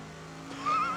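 A race car engine in the racing game Project Cars 2, a steady mid-distance drone that rises into a sharper revving whine near the end, alone without talk.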